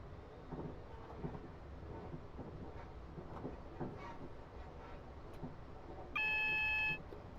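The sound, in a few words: signal alert in a train driving video game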